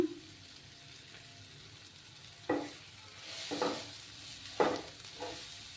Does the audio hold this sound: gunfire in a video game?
no